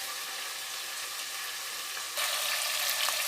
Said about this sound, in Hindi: अब इसको थोड़ी देर भून के इसमें कद्दू डालेंगे।